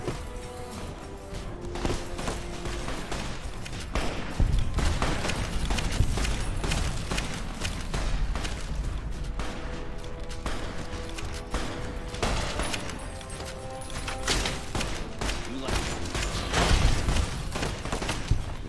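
Fallout New Vegas combat with dense gunfire: rapid overlapping shots, cracks and impacts in a continuous fusillade, loud and busy throughout, with no speech.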